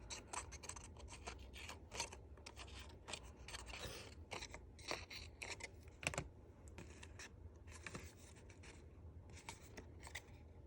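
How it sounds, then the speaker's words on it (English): Scissors snip repeatedly through paper, cutting between the petals of a small handmade Christmas flower, a steady series of close, crisp clicks and rustles with no talking. "we're going to cut into the center in between each petal"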